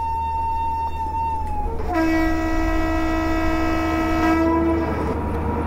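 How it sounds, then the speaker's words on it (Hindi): A WAP 7 electric locomotive hauling the Garib Rath Express at night in WCR Train Simulator 2022 sounds a loud, steady horn for about three seconds, following a softer tone, over a constant engine rumble. "मैं एक बार हॉर्न वगैरह बजा देता हूँ।"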